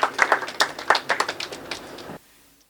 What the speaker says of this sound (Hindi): एक बार जरा तालियां बजा दीजिए जोरदार